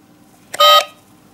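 A single short electronic beep sounds as a button is pressed on a cheap telephone, clear and loud against a quiet background.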